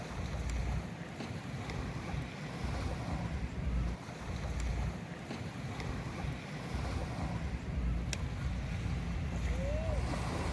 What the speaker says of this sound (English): let you enjoy the sounds of the river, the water, the kids playing in the background